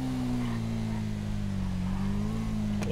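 A motorcycle engine in GTA 5 roleplay hums and revs steadily in a continuous drone, moderately quiet, with no speech over it.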